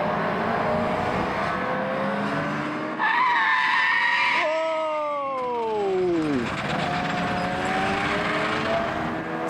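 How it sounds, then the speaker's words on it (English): A Subaru tarmac rally car skids toward a barrier, its loud engine note and tyre squeal sweeping downward in pitch over several seconds against steady road and crowd noise. "Subaru's gone into the barrier"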